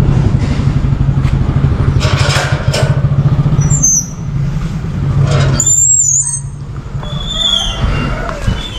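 A Royal Enfield Himalayan 450 motorcycle engine idles with a steady, close, loud low rumble for several seconds, then softens and pulses as it revs, with some clattering and faint squeals mixed in.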